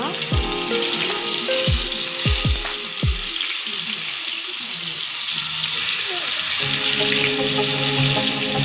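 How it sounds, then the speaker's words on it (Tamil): Marinated chicken dropped into hot oil for butter chicken, giving a loud continuous sizzle close up with a few sharp splashes and pops near the start, then steady bubbling frying. "இதில் ஒரு சிக்கனாக போட்டு ஃப்ரை பண்ணி எடுத்துக்கலாம்."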